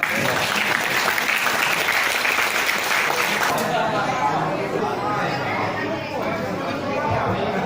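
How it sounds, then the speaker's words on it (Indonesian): Audience applause at a Chinese-Indonesian community gathering for the Dong Zhi onde-onde celebration, a loud, steady burst of clapping that thins after a few seconds as chatter and voices take over in the room. "tepuk tangan dong"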